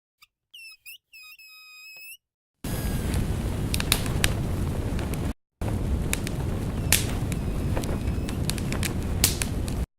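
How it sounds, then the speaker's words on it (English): Dense crackling and sharp popping snaps over a steady broadband hiss, like a fire burning up close, made from everyday objects such as breaking branches and a balloon, after a few short whistling squeaks at the start. "The branch breaking sounds add the bigger snaps that you can often hear in a fire."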